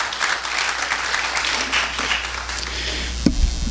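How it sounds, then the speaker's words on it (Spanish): A church congregation claps loudly and steadily in a dense, reverberant wash of applause, with a sharp knock near the end. "Dele fuerte ese aplauso a nuestro Dios"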